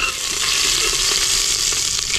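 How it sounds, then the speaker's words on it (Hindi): Cumin seeds crackling and sizzling in hot ghee, a dense, loud, steady frying hiss with tiny pops throughout. "अब जीरे को चटकने देते हैं।"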